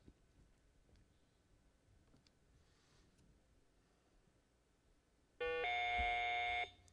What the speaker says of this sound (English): you did get in before the buzzer